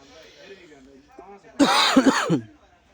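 A short burst of harsh coughing and throat clearing, close and loud, following a stretch of quiet speech.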